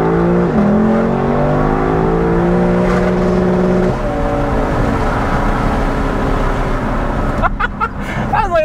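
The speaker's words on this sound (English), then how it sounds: "The limiter does sound quite good if you want to hit it." A Lexus LC500 V8 holds a high rev near its limiter, a loud, close engine drone with shifting tones. It eases off toward the end as voices come in.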